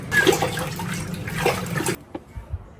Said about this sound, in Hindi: पानी में खेल रहे हो?